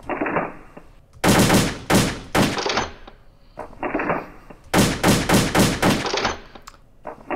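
Rapid bursts of AK-47 automatic fire on a shooting range in the video game World of Guns, several loud, sharp volleys in quick succession separated by short pauses.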